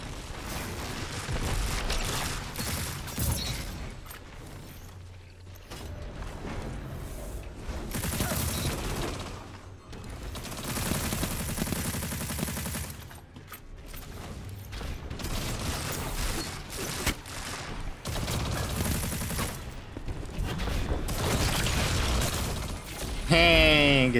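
Rapid automatic SMG bursts from the Adjudicator in Destiny 2 PvP, dense, loud and nearly continuous with brief gaps, mixed with game effects and someone talking over it.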